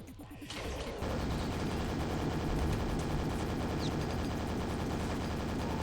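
Gunfire from the shooter game Quake: Scourge of Armagon, a dense, loud, continuous stream of shots and game action that fills the whole stretch after a brief quieter opening.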